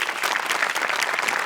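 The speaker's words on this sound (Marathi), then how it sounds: "आमिरच्या बँडसाठी पण टाळ्या" A studio audience applauds Aamir's band on the Maharashtrachi HasyaJatra comedy stage, with dense, steady clapping that stays loud and even throughout.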